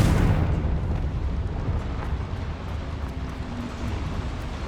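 A Confringo fire spell in the video game Hogwarts Legacy bursts with a loud, deep explosive roar that rumbles on and slowly fades.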